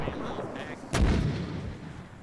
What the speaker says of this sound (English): We're getting counter mortared.